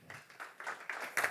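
Brief rhythmic clapping at the MTC NFA Cup launch event, a handful of evenly spaced claps growing slightly louder over about a second.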